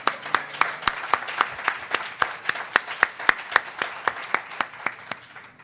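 Audience at a Black History Month celebration in Delaware County gives a steady round of applause, with sharp, evenly spaced claps standing out clearly above the crowd.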